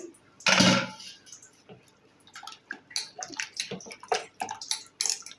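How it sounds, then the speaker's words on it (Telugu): A short burst of water splashing into a pot for mango sambar, followed by scattered drips, clinks and light handling noises nearby. "మెదుపుకొని నీళ్లు పోసుకోండి"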